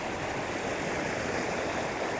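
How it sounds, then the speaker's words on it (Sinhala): A cold mountain stream near Mandaram Nuwara flows past with a steady, close rushing wash of water, unbroken for a couple of seconds and with no voices. "මන්දාර නුවර පැත්තේ ඉඳගෙන වතුර පාර."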